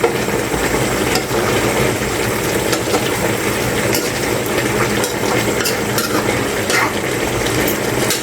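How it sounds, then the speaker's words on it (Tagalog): Adobo being stirred in a pan, a loud steady bubbling sizzle with occasional scrapes and clinks of a utensil against the pan, no talking. "Tapos yung haluin natin."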